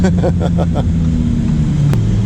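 A Lamborghini Huracan Performante's engine drones loudly from the cabin while the car is driven, a deep steady rumble with a pulsing rev early on that then settles. Wind and road noise sit underneath, and there is no talk.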